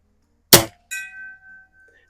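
A Crosman Premier hollow point pellet fired from a Weihrauch HW77K air rifle strikes a freshly painted steel gong, giving one sharp metallic clang followed by a clear ringing tone that decays over about a second and a half.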